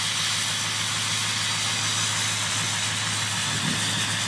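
A Powerstroke 6.0 liter diesel engine idles after a cold start, giving a steady, close rumble with an even hiss over it and no break for the whole stretch.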